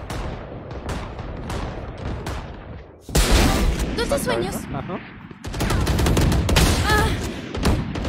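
Rapid bursts of video game gunfire rattle out in loud clusters, with a voice speaking briefly between volleys.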